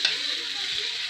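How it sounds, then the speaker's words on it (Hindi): Beef liver pieces drop into a frying masala, giving a loud, steady sizzle with stirring throughout and no talking. "तो चलिए जो मैं कलेजी रखी थी उस कलेजी को ऐड कर रही हूँ"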